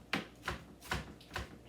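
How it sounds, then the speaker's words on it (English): A knife chopping garlic on a cutting board, four distinct close, crisp thuds spaced evenly with soft scraping between them. "Cutting up the garlic just a little bit more."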